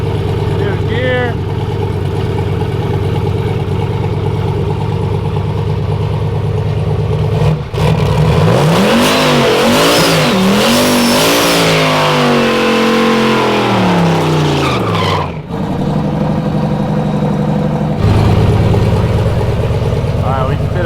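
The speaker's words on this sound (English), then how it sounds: "we just did a one tire burnout" A drag car called Ruby, fitted with a new converter and new gear, revs hard at the track for a one-tire burnout. The engine climbs in pitch for about eight seconds over a constant idle rumble, then drops back, with nearby talk.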